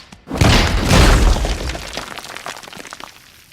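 A loud crashing smash with a breaking, shattering burst as Hulk slams Loki in The Avengers film, a heavy impact that decays into scattered debris rattling over a few seconds.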